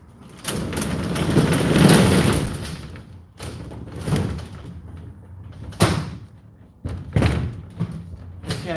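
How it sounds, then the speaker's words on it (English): A door is pushed shut in a few heavy thuds and bangs with rumbling swells between them, loud and close, and no clear talking over it. "Go ahead and shut that door."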